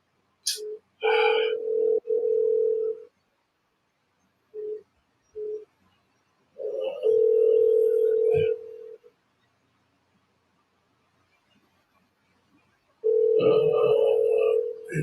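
Phone call tones on a handset: a steady mid-pitched tone sounds in repeated bursts of varying length, some brief and others lasting a second or two, separated by silent gaps, with a sharp beep near the start and no talking.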